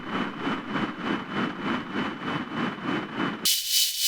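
A submarine's high-pitched steam tonal picked up on a towed sonar array in a naval warfare simulation game, heard as a steady whine over a rhythmic pulsing hiss that cuts abruptly to a bright burst of static at the end.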